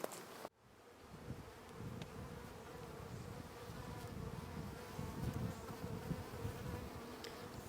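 Honeybees humming steadily inside a nucleus hive as the lid is eased off for an inspection, a close, low buzzing swarm drone that holds throughout after a brief knock at the start.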